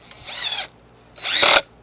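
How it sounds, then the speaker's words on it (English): Drill boring holes in a small piece screwed to a board, part of a greenhouse cooling system install: two short, loud whirring bursts close up, separated by a brief pause. "then I can easily drill these ones out"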